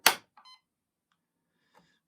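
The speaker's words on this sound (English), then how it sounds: "nice and healthy startup beep" A Power 3000 microcomputer powering on gives a short, clean startup beep, preceded by a loud click of being plugged in, then faint electronic chirps in an otherwise quiet room.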